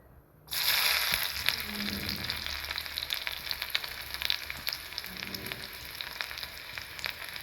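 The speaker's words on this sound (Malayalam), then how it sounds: "വെളിച്ചെണ്ണ ചൂടായിട്ടുണ്ട് അല്ലെങ്കിൽ നമുക്ക് ചെറിയ ഉള്ളി ഇട്ട് കൊടുക്കാം" Small shallots dropped into hot coconut oil burst into a loud sizzle that settles into a continuous crackling fry with scattered pops, nearby and unaccompanied by speech.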